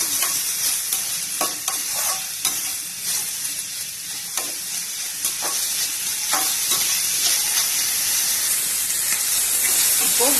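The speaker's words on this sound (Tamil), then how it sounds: "எண்ணெய் காஞ்சதும் இந்த வெங்காயத்தையும் கருவேப்பிலையும் சேர்த்து வதக்குவோம்." Onions and curry leaves sauté in hot oil with a loud, continuous, close sizzle and hiss, broken by occasional stirring scrapes in the pan.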